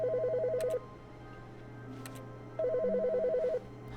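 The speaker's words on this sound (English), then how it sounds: "The phone's ringing?" A telephone rings inside The Stanley Parable in two trilling electronic bursts, each about a second long with a pause between, over a steady low hum.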